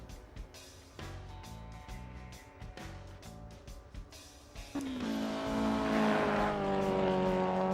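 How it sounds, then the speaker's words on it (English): Race car with a side exhaust in AC EVO, a loud engine that revs in stepped gear changes, then surges into a sustained, rising, harsh roar in the last few seconds. "It's so loud, that side exhaust as well"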